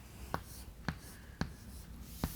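A pen writes the chemical formula K2Cr2O7 on paper in four short, crisp strokes spaced about half a second apart, close and quiet, with no talking.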